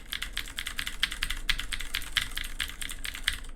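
An older Filco Majestouch 2 keyboard with Cherry MX Blue switches clatters under fast typing, close-up crisp clicks in a dense, steady stream, alone without voices.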